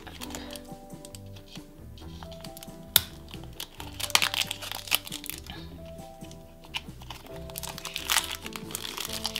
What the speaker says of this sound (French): c'est un petit papier, un petit carton enroulé autour qu'il faut déclipser